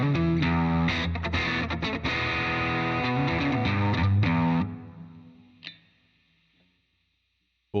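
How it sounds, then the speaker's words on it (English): Electric guitar with an EMG DG20 David Gilmour pickup set, played through a Twin amplifier with crunchy front-end distortion, chords and notes ringing out, then fading into a decaying tail and a final plucked note. "you're getting a little bit of front end distortion from the twin"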